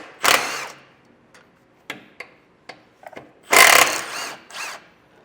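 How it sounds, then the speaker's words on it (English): Ratchet and 14mm socket removing sway bar mount bolts on a 2023 Toyota 4Runner, heard as two longer close ratcheting bursts with scattered clicks and clanks between them; no talking. "I'm going to remove those with a 14mm socket on either side."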